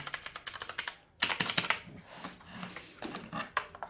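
Typing clatters on a Corsair K95 RGB Platinum mechanical keyboard with brown switches, rapid close keystrokes in uneven bursts with a brief pause, no voices present.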